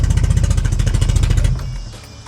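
The engine of a 1982 Toyota Celica Supra runs loud and close with a fast, even pulsing idle, then cuts off and fades out over the last second.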